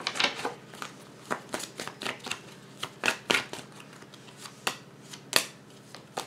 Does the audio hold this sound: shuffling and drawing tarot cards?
yes